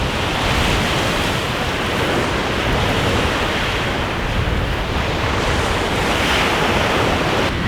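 Sea waves roll onto the Egyptian coast in a steady broad surf roar, loud and close, with wind buffeting the microphone throughout.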